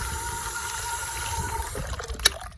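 Water pours into a plastic bag holding flowers and bugs, a soft running trickle that fades out near the end, followed by a brief crinkle or tap.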